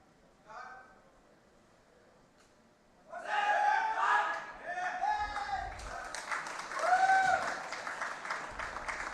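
A crowd of supporters at a world para powerlifting championship in Dubai bursts into cheering and applause, swelling loud and sustained after a quiet start, with shouts and voices mixed in.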